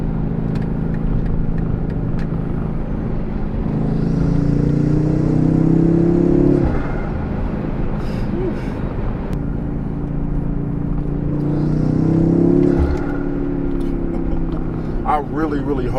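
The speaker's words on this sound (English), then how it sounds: "It's just how the turbos, how this car sounds." Engine noise from inside the cabin of a BMW X5 M with new turbo inlets, rising in two surges of acceleration with a whooshing turbo intake sound, then settling back to a steady drone.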